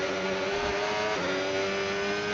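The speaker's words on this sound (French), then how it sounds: "Alors que là on est avec Nathan qui est en tour de sortie" A Formula 1 car on its out-lap during Miami qualifying, a steady high engine drone with a brief dip in pitch midway, continuous and fairly distant.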